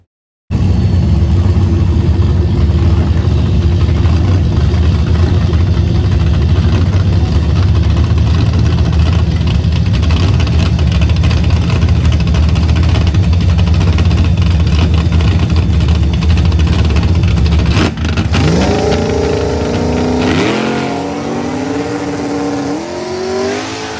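A turbocharged 2-valve drag car rumbles loudly at a steady idle on the strip for a long stretch, then launches into a hard, rising roar of acceleration as it pulls away down the track.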